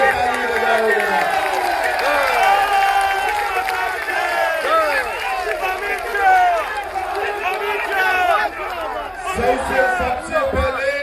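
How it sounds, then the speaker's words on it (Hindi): A large crowd at an outdoor political rally in Assam claps and cheers loudly and continuously throughout, a dense, sustained wash of applause and voices without pause. "जोर से ताली लगाओगे"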